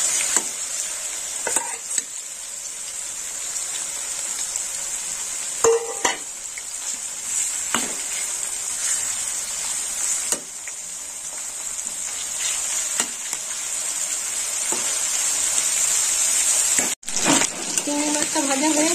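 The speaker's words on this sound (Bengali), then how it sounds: "চিংড়ি মাছটা লাল লাল করে ভেজে নেব।" Shrimp sizzle and fry in hot oil in a home kitchen, a steady crackling hiss throughout with occasional stirring clinks of a utensil against the pan.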